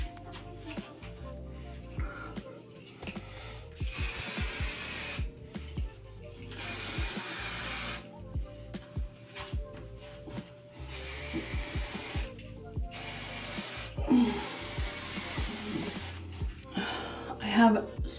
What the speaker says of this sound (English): we're just gonna gently spray the hair now.